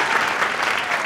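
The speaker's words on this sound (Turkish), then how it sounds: "Oğuzhan Uğur'u alkışlarla oturtuyorum" Talk show studio audience applauding as the guest is seated, a brief, dense and loud wash of clapping.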